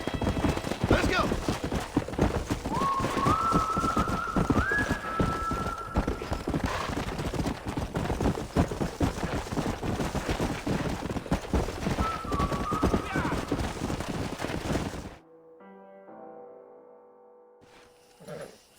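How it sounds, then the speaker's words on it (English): Horse hooves clip-clop steadily in Red Dead Redemption, with a whinny or two rising over the loud, continuous hoofbeats before they cut off abruptly near the end. "We got some fine horses."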